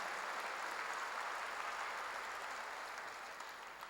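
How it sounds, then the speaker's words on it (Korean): Church congregation applauding during a sermon, a dense, steady wash of many hands clapping together that holds for about four seconds and tapers slightly at the end, with no voices over it. "빨리 박수로 하시기 바랍니다"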